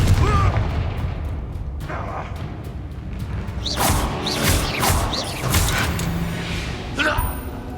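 Confringo fire-blast spell in Hogwarts Legacy, a series of booming explosive bursts with crackling debris and mechanical clatter, loud and close, repeating over several seconds.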